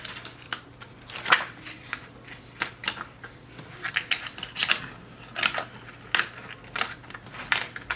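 Scissors cutting planner pages, giving repeated crisp snips and paper rustles in an irregular rhythm, close and moderately loud, with no talking.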